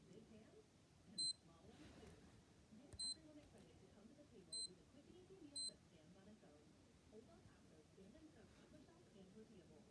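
A digital wristwatch alarm gives four short, thin, high beeps spaced over several seconds. They are faint against a low background hiss.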